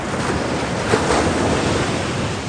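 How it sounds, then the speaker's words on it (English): Ocean surf rolls in steadily at close range, a continuous broadband wash of breaking waves with wind buffeting the microphone and no voices. "I'm gonna leave you with the sound of the ocean"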